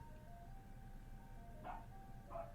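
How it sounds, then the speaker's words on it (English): Faint, distant ice cream truck melody, a few tinkling notes rising over a low steady rumble of background noise. "it's the ice cream truck. Can you hear the music?"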